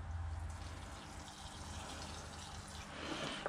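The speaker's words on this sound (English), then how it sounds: "So we'll give that a bit of water," Water poured over a freshly repotted pine bonsai, a close, continuous splashing and trickling into soil with dripping, without talk.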